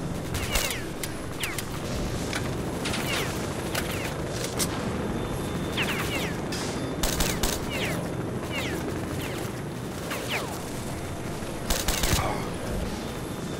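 Sustained gunfire in the video game STALKER: Shadow of Chernobyl: dense volleys of rapid shots and bursts over a steady din, with a few louder cracks standing out, heard without any talk.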